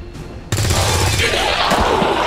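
Soldier Pete fires on an enemy officer in XCOM 2, a sudden loud gunshot burst after a quiet lead-in, followed by sustained dense rumble and crackle of weapon fire.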